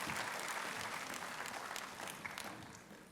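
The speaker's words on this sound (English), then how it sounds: "put your hands together once again in welcoming all the dignitaries" An audience at a university health sciences valedictory session gives a steady round of applause, faint and distant, holding evenly before easing off slightly.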